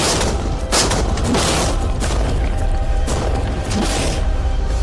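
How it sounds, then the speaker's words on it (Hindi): Tanks fire rapid cannon shots, heard as loud, dense bursts of booms and rumbling blasts that overlap almost without a break. "टैंक्स की रैपिड फायर से मजा आ रहा है।"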